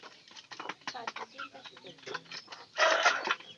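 A laying hen clucks in short, close bursts, then lets out a louder, sustained squawk near the end.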